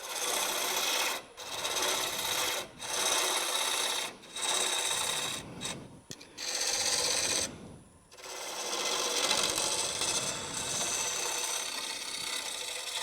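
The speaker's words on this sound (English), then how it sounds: "Well, okay, we'll go with a little bowl gouge." Bowl gouge cutting a wooden plate or platter on a lathe, a steady loud rasping scrape in repeated passes, each broken by brief pauses, with no talking.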